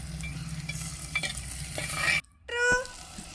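Onions, green chillies and tomato pieces fry in a pot on a rooftop cooking spot, hissing steadily with a few sharp stirring clinks, a brief hush, then a renewed sizzle.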